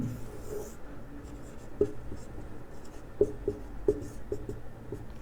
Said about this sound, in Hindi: दूसरी लड़की का नाम मैंने लिख दिया